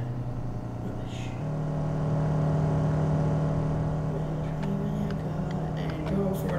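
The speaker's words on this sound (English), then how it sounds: "I am revving quite a lot right now." Car engine revving hard while driving, a steady low droning hum that rises in level and pitch partway through and holds there, with faint background clicks and no talk.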